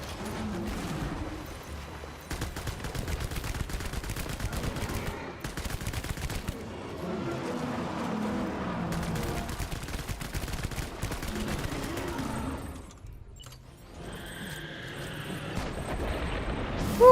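Rubber hermetic rounds fired in Death Stranding, a dense run of rapid gunfire bursts that carries on for most of the stretch, with a short lull near the end before the shooting picks up again.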